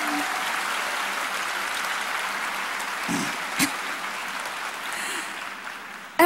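Steady applause from an audience at a stage show fills the whole stretch, with no talking over it.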